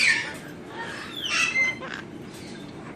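Pet parrots squawk in a few bright, harsh bursts at a household bird-boarding setting, close and moderately loud over a low room background.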